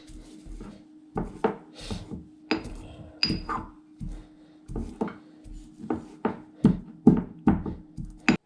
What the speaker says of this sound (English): So I'm going to go ahead and put these in my pestle and mortar.